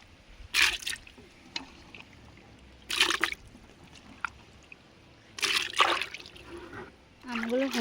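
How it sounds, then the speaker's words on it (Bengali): Raw mangoes being washed by hand in a bucket of water, with several bursts of splashing and sloshing separated by quieter pauses, close up and fairly loud, and a short voice near the end. "এই বালতির মধ্যে জল নিয়ে নিয়েছি, আমগুলো দিয়ে দিচ্ছি, দিয়ে ভালো করে আবারও ধুয়ে নেব।"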